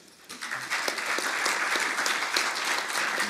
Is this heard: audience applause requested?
yes